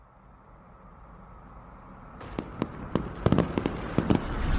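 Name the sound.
fireworks exploding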